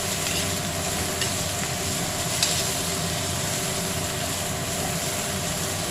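Powdered turmeric, cumin and dried chilli stirred into a pan of duck-egg and potato curry, a steady dense sizzle with a couple of faint utensil taps, close and continuous.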